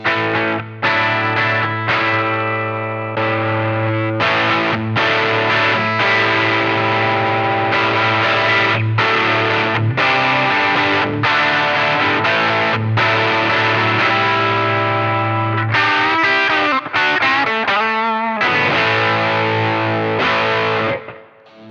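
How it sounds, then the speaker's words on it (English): Distorted electric guitar through an Origin Effects M-EQ Driver overdrive pedal plays a sustained riff of chords and single notes, thick with overdrive, loud and continuous before stopping abruptly at the end. "The pedal's push-pull output stage gives some natural amp-like drive that sounds great"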